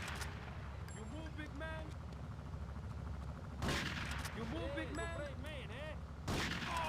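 Gunfire in the PC game Grand Theft Auto III: two sharp, loud shots burst out a few seconds apart, with someone talking over the game's ongoing background sound.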